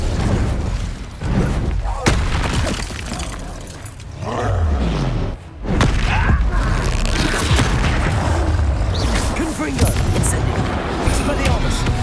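A fire spell cast in the video game Hogwarts Legacy bursts out in a loud booming whoosh, surrounded by dense combat effects and repeated impacts, with voices shouting over the action.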